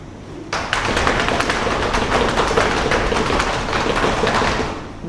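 A choir section claps hands together on a conductor's hand cue, a dense steady patter of many claps starting abruptly after a brief pause and continuing evenly throughout.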